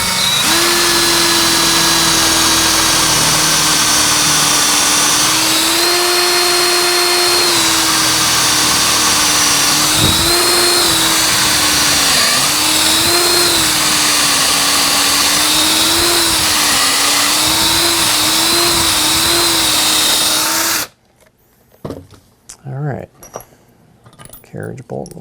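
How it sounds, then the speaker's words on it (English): A power drill whines steadily at close range for about twenty seconds, boring through wood for a carriage bolt on a porch swing, its pitch wavering as it bites, then cuts off, leaving quiet clicks and handling sounds. "I'm going to drill right next to that screw that I put in for the final carriage bolt here."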